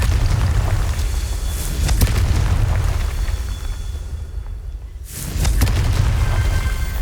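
A Confringo fire spell explodes in the Hogwarts Legacy video game: loud, broad booming blasts with a heavy low rumble, a brief lull, then another burst of explosive noise.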